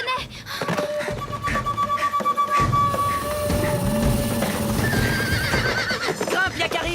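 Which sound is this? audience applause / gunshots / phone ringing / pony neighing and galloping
pony neighing and galloping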